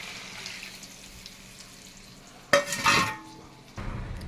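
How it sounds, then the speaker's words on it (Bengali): Soaked spice paste of ginger, tomato, chili, cumin and turmeric cooks in a pan: a quiet stretch, then a sharp burst of stirring and splashing, followed by a renewed low sizzle. "ভালো করে মশলাটাকে কষিয়ে নেব।"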